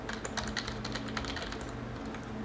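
Rapid, steady clicking of a computer keyboard as a password is typed, with close keystrokes coming in quick bursts over a low background hum and no talking.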